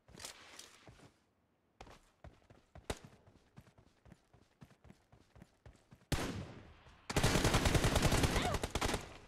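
Video game shooter gunfire crackles in sharp single shots and short bursts, then breaks into a loud, sustained rapid-fire volley at the end, close and punchy with brief silent gaps between.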